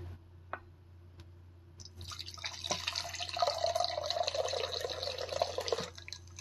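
Unfiltered homemade apple ginger drink being poured, a few faint drips followed by a several-second stream of liquid splashing into a container, close and with no talk.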